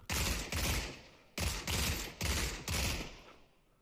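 Four bursts of rapid automatic gunfire from a weapon in CS:GO played in virtual reality, each volley loud and dense, lasting about a second, separated by short pauses.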